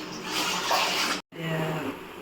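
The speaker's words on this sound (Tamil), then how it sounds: "நம்ம வந்துட்டு அரிசி கழுவிடலாம்" Rice is washed by hand in water, with continuous close sloshing and swishing that cuts out for a moment before resuming.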